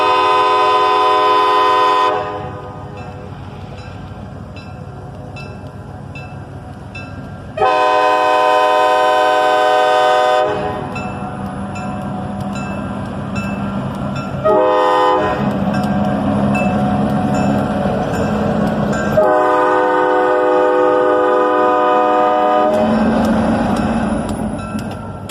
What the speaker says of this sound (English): the train was leaving town